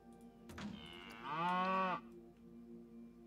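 A cow moos once, long and tonal, from a cosmic cow neon sign in the Planet Coaster game, rising and then cutting off cleanly over a quiet in-game background.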